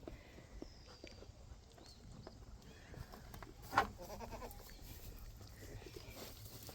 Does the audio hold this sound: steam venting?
no